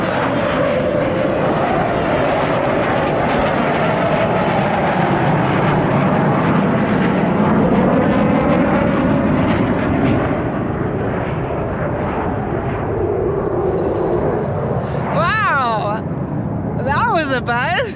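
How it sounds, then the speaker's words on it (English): Propeller airplanes pass overhead at sea near Greece, a loud roaring drone that swells and slowly fades over many seconds, heard from aboard a sailboat in deep water while people talk and exclaim. "You know what kind of planes they were?"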